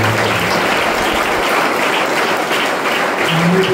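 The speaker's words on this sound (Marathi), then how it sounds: "आपण टाळ्या वाजवतो." A church congregation claps together in a steady, even wash of many hands, loud and unbroken for several seconds.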